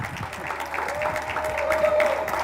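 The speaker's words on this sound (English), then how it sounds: "Give a round of applause to Glenn Gillis from Sea Monster." Audience applause at a games industry event fills the whole stretch, a dense steady clatter of many hands with a faint tone running through it and a little crowd noise underneath.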